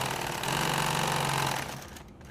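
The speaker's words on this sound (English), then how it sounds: "I'm sewing this in green thread on here." A sewing machine stitches nylon tactical gear with green thread, running in a steady close whir that holds for about a second and a half before slowing and fading.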